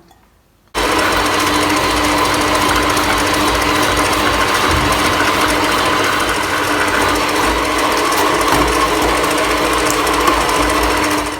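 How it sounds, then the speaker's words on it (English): A Kenwood Major Premier KMM770 stand mixer drives its slicer attachment through potatoes, starting abruptly and then running as a loud, steady, buzzing motor whir with a faint clatter of slicing for about ten seconds. "now I want to show you how you slice your potatoes"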